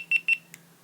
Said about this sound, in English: Press and hold the on-off button till you hear the multiple beeping sound.